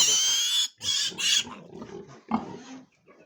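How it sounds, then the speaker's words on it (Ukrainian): A piglet on a farm squeals in loud, close bursts, with several sharp shrill cries early on followed by softer grunting and snuffling. "якщо пищить порося, нічого страшного"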